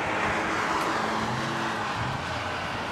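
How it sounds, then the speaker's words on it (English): A Subaru WRX, not the STI version, accelerates hard through an autocross Solo course, its engine roaring loud and steady for the whole stretch with no talk over it. "You can hear her pushing really hard as she comes through the lights"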